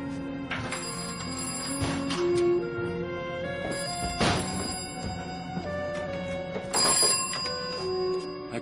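A telephone at a hotel reception rings in repeated bursts, a bright bell-like trill sounding several times with short pauses between rings, fairly clear and close.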